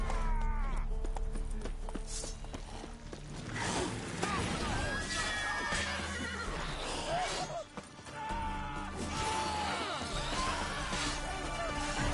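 Roach the horse gallops in The Witcher 3 amid a dense game soundscape of music and effects, hooves faintly audible with an occasional whinny, while voices speak over the action.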